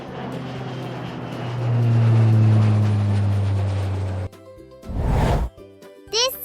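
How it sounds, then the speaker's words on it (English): Airplane engine roar swelling to a loud, close, sustained drone, then cutting off abruptly, followed by a brief whooshing sweep and short bright tones. "This is an airplane."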